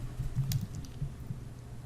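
Keystrokes tapped on a Mac keyboard during a Shift Command V paste come as a few soft, close clicks in quick succession over a quiet room.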